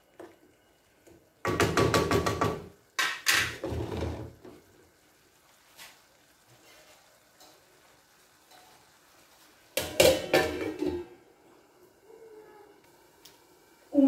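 Knife cutting ingredients for mini batbout stuffed with a ground turkey kefta and onion filling, heard as two loud bursts of rapid chopping strokes on a board, then quieter handling, with another short chopping burst near the end.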